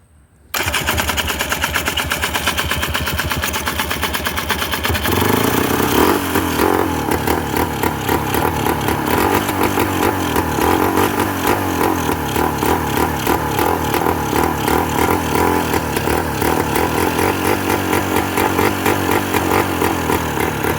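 A Polaris 400 Xplorer ATV engine sputters to life and runs loud and uneven, popping and stuttering in a rapid rough rhythm as if misfiring, acting as if running out of gas while leaking fuel.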